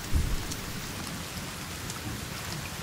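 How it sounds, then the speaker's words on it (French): Steady rainstorm with rumbling thunder in the survival video game The Forest, a dense continuous hiss of rain on surfaces with low thunder rolls underneath, no voices. "Oh génial, un orage"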